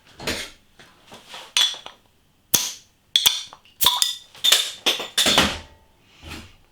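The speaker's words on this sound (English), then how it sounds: "There's the bottle cap." Metal clinks, taps and a sharp pop as the cap comes off a bottle of Polish craft Belgian IPA, a handful of loud separate hits close by with quiet gaps between them.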